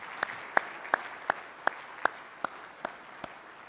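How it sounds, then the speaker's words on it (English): Sparse, slow applause from a small breakfast audience of engineers at a university homecoming, about nine distinct claps spaced evenly and fairly faint, with no voices over them. "let's give them a round of applause"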